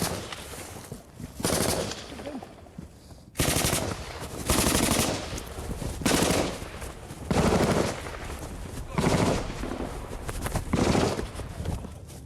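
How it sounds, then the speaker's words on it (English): Bursts from a Minimi light machine gun and SA-80 rifles in a combat firefight in Afghanistan: repeated loud rattling volleys, some long and some short, separated by brief gaps of quieter background. "We're trying to reload the Minimi now, and they're covering fire with the SA-80."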